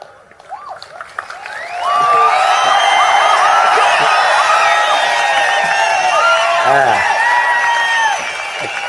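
Dense crowd at a Naam Tamilar Katchi political rally in Tamil Nadu cheering, whooping and clapping continuously, a loud sustained roar of voices rising after a brief quieter start.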